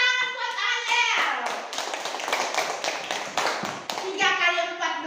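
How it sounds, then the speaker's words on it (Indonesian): Children in a classroom break into a burst of clapping for a classmate, dense and steady for several seconds, with a teacher's voice speaking before and after. "Tepuk tangan buat Ayel."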